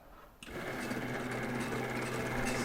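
A Maksindo noodle-making machine, set up for cutting kway teow noodles, starts at about half a second and then runs as a steady, loud mechanical whir and hum that continues unbroken to the end, with no voices over it.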